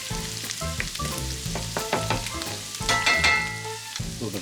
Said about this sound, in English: You just want to get the shallots to do what's called sweating.